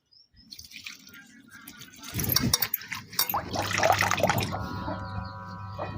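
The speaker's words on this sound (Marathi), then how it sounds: "भाजीला स्वच्छ पाण्याने धुवून घेऊ।" Water splashes and trickles as fenugreek leaves are swished and rinsed in a basin, growing busier midway, with a faint hum underneath.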